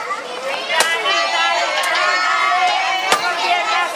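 A child whacks a Monsters Inc piñata at a party, with a few sharp thuds standing out over an excited crowd of children and adults cheering and shouting.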